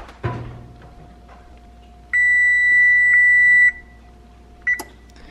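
Electronic beeps from an oven control panel as the temperature is set to 350 degrees: one long steady tone followed by a short beep, clear and close against a quiet kitchen.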